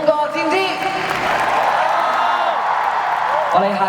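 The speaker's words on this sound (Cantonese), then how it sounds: "俾掌聲好兄弟！" Audience at a Cantonese music show cheers and applauds a performer, a dense, steady wash of clapping and crowd noise with shouts and whoops rising over it throughout.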